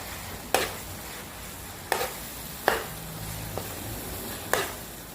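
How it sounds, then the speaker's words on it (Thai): Pork goes into panang curry paste in a wok and is stir-fried with pea eggplants, a soft steady sizzle broken by about five sharp clacks of a utensil striking the pan. "กลิ่นหอมได้ที่ก็ใส่หมูลงเลยนะคะ"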